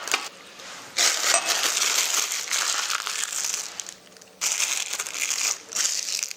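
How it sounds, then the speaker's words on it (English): Macaron batter being spooned into an icing bag: a steady close crinkling and rustling of the plastic bag, broken by two short quiet pauses, with no voices. "I'm going to spoon a tablespoon at a time into the icing bag."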